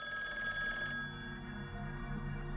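A telephone rings as a sound effect in a horror story, an electronic bell trill that sounds for about a second then fades into a lingering tonal decay, moderately loud with no voices.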